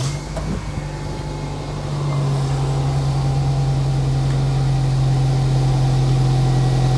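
A 2010 Nissan Livina X-Gear with automatic transmission has its engine started and then settles into a steady idle. The low, even hum holds close and constant, and nobody speaks.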